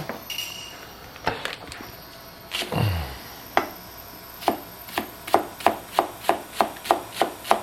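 A knife chops green onions steadily on a cutting board, a quick run of evenly spaced, crisp thuds after a few scattered cuts and some rustling.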